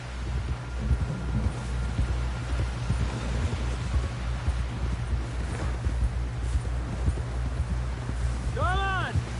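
Horse hooves clip-clopping at a steady run in the Red Dead Redemption 2 video game, continuous rhythmic beats under game ambience and wind, with a character speaking over it.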